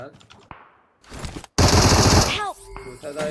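Bursts of enemy automatic gunfire in PUBG Mobile: scattered shots early, then a loud sustained volley, followed by sharper whizzing ricochet-like tones and lighter shots toward the end.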